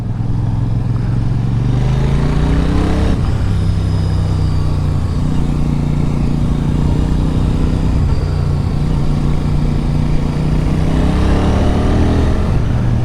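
Royal Enfield Super Meteor 650 motorcycle engine pulls through rising revs and gear changes, a loud, close, continuous throaty drone that climbs in pitch, drops at each shift and climbs again.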